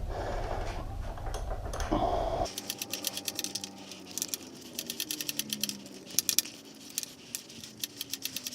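A socket wrench ratcheting on a motorcycle handlebar bolt on a Street 500, a fast, close run of light metallic clicks in uneven bursts after a duller low rumble at the start.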